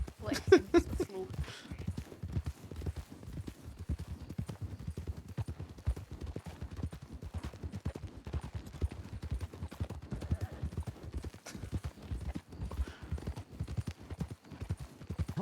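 Horse hooves clip-clopping steadily in the Wild West game RedM, a quiet, regular trotting beat that runs the whole time with a brief louder burst near the start.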